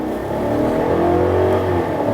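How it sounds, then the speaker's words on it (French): A 2021 Chevrolet Silverado 1500 with a 5.3-litre V8 and a modified air intake revs steadily nearby, with a deep, loud, continuous engine note and no voices. "Donc, on peut l'entendre ronronner, ce moteur-là, sans problème."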